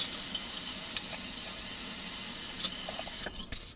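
Hot water runs steadily from a tap into a sink in a continuous close hiss, then cuts off near the end, leaving a few drips and faint handling clatter.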